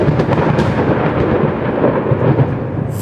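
A deep thunder sound effect rumbles as one continuous, loud rolling peal over about three seconds, with no voice over it.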